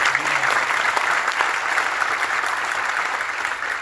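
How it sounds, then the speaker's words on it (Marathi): An audience at a talk breaks into strong, sustained applause, a dense wash of many hands clapping that stays loud and steady, then eases slightly. "एका जोरदार टाळ्या आमच्या गाडीवर."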